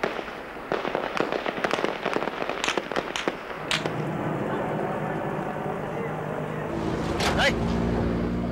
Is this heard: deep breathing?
no